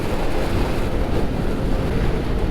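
A motorcycle is ridden along roads near Lake Pepin, its sound dominated by heavy wind buffeting the microphone. The rush is loud, constant and roaring, with low rumble underneath and no voices.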